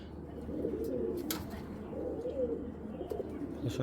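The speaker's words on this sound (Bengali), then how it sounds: "ফুল ফ্রেশ একটা সিলভার গড়া মাদি কবুতর" Silver-coloured Giribaz pigeons, including a hen, coo in low, soft, repeated phrases close by, with faint rustling and a few small knocks around them.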